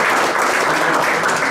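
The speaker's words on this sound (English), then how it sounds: "I would appreciate if we could all give her one more round of applause." Audience applause at a college signing event, a steady dense wash of clapping filling the whole stretch at close, loud level with no break.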